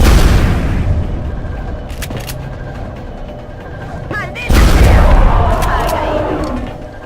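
Rapid-fire gunshots in the X-Com video game, heavy booming blasts that swell twice over a dense, continuous rumble, with brief chirping effects in between.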